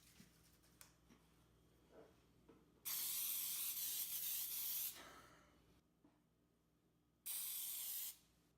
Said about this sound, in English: Next step is to spray your pans with some cooking spray